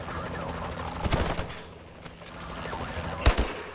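Gunfire from the Call of Duty Advanced Warfare video game: a few sharp, loud shots around the one- and three-second marks over a steady game soundtrack rumble.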